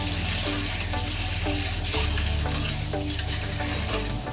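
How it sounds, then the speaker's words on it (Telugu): Eggs frying in a pan of hot oil for a Telugu-style egg curry, giving a steady, dense sizzle with a continuous low hum from the stove, close and unbroken, with no talk. "ఇందులో ఎగ్స్ వేసుకోవాలి. ఇది వేయించుకోవాలి."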